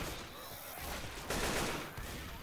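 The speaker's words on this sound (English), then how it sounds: "it is cool that we can shoot at the merry-go-round" Gunfire in Left 4 Dead 2 at a fairground, rounds shot at a merry-go-round: a steady, dense burst of shots for a couple of seconds, swelling louder midway, with no talk over it.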